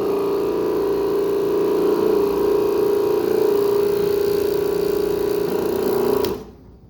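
An OP-115 floorcare cleaning machine runs at high pressure, turned up to 800 for tile and grout cleaning, giving a loud, steady motorized drone that holds for about six seconds and then cuts off abruptly.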